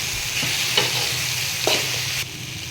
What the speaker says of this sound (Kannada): ಚೆನ್ನಾಗಿ ತಿರುಗಿಸ್ತೀನಿ